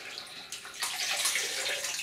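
Water is squeezed out of a soaked GrowPito growing medium, giving a wet splashing trickle that builds and runs steadily for about two seconds, close and moderately loud with no talking.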